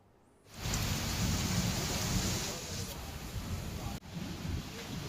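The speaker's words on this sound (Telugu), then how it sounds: "సామర్లకోట, పెద్దాపురం మండలాల్లో అకాల వర్షం కురిసింది." Heavy unseasonal rain pours down with gusty wind in Samarlakota and Peddapuram mandals of Kakinada district, a dense steady roar that starts abruptly, with a sharp crack partway through and a voice partly over it.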